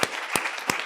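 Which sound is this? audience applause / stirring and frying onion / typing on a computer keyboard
audience applause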